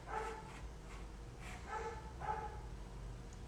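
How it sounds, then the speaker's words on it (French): A neighbor's dog barks several times in the distance, faint and muffled, in a few short bursts over a quiet background hum. "il y a le chien du voisin qui est en train d'aboyer"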